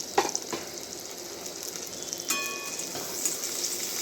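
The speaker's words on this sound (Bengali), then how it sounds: "হালকা করে সব ভেজে নেব।" Vegetables, including capsicum, sizzle steadily in a hot pan, a constant crackling hiss with occasional clinks of a utensil stirring.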